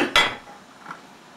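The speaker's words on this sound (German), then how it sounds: "Das ist Kochgeschirr." Metal cookware clatters in a single sharp burst of clinking pots and pans, then fades to quiet room tone with a faint second clink near the end.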